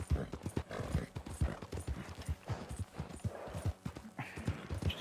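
Rapid rhythmic clip-clop of horse hooves galloping in the video game Red Dead Redemption 2, loud and continuous, with occasional whinnies mixed in.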